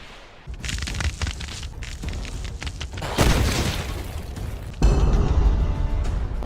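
Heavy booming explosions hit in a series of loud bursts with crackling, rumbling debris between them, the later blasts stronger and closer.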